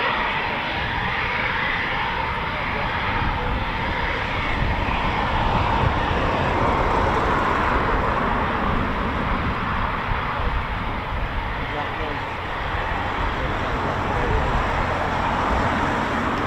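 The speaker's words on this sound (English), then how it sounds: "The legendary Elvis call sign C-17 is up again." A C-17 aircraft near RAF Coningsby gives off a steady, broad roar of jet engine noise that fills the whole stretch without pause, with no talk over it.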